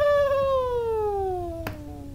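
A long drawn-out cat-like meow with a slowly falling pitch, made by a person's voice imitating a cat, close and fairly soft, ending with a short click.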